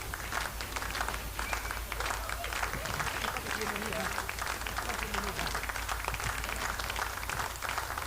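Sustained audience applause and clapping at the grand finale of a super dancer competition in Seppa, Arunachal Pradesh, a dense, steady wash of hands that continues evenly throughout with a crowd murmur and an announcer's voice faintly underneath.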